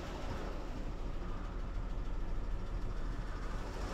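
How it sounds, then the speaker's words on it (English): A car engine running with the radiator cooling fan on high, making a steady, dense broadband whoosh and hum that holds evenly throughout at close range, with no voices. "So our cooling fan's kicked on high there, so let's see if we're cooling down."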